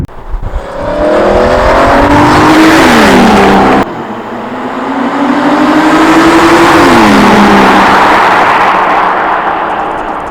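A 2011 Aston Martin Rapide's V12 engine exhaust revs hard twice, climbing in pitch through the gears with a loud, raspy roar close by.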